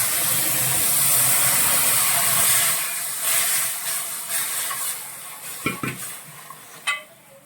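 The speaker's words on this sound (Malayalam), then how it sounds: "നമുക്ക് ഇതിലേക്ക് വെള്ളം ഒഴിച്ചു കൊടുക്കാം" Water goes into a hot pan of fried chilies and rice for a Kuttanad-style fish curry, raising a loud hiss of steam that fades into quieter bubbling with a few sharp pan knocks near the end.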